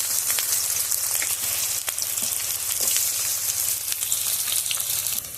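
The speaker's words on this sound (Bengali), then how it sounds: "পেঁয়াজটা দিয়ে দিচ্ছি পেঁয়াজ ভেজে দিচ্ছি" Onions frying in mustard oil in a wok give a steady, close, dense sizzle with crackling pops throughout, continuous and fairly loud, with no talk.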